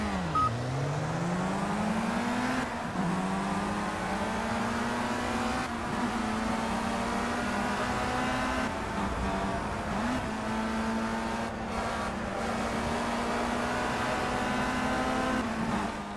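Race car engines in the racing video game Project CARS, one engine droning and revving steadily up and down through gear changes, with other cars faintly around it and no one speaking.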